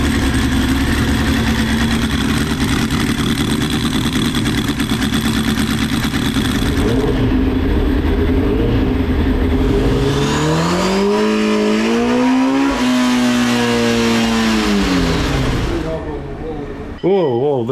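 A loud Honda CBR900RR superbike engine with a full Vance and Hines exhaust drones steadily on a dyno, then revs up and down in rising and falling sweeps near the end before cutting off abruptly.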